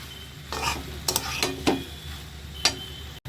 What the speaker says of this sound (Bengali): একটু নাড়বো, একটু মিশিয়ে নেব আর কি। মশলার সাথে মিশিয়ে নেব।